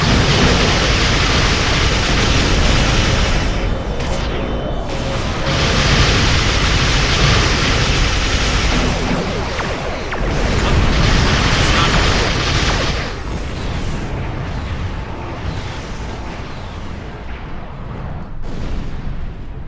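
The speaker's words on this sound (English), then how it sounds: "Computer, arm all weapons and fire!" Starship weapons fire and explosions during Star Trek Online space combat: a loud, dense roar of blasts and booms that runs nearly unbroken, with short dips between the heavier bursts.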